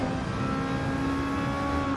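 Race car in Gran Turismo 7, its engine droning at a steady high pitch as it drives, continuous and close with no breaks.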